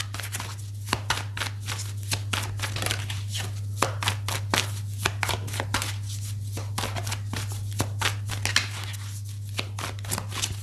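A deck of tarot cards is shuffled continuously, with rapid, crisp riffling and flicking close by over a steady low electrical hum.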